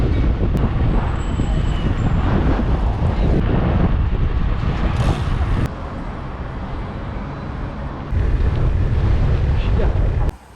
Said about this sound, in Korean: 어디 갈 때마다 이렇게 바람이 부냐고.